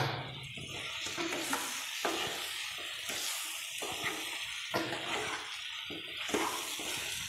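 Lemon pickle being mixed with salt in a pan, a spoon scraping and stirring in uneven strokes over a faint hiss, close by and with no speech.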